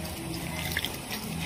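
Water poured into a dough mixture of salt and flour for a Bengali jackfruit pua, a steady close liquid splash and trickle running throughout with no talk.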